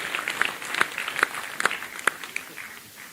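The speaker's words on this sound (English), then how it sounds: "you deserve a round of applause for yourself and other" Short burst of clapping from an audience at a party national congress, a handful of sharp claps at uneven intervals over a low hall murmur, fairly faint and thinning out.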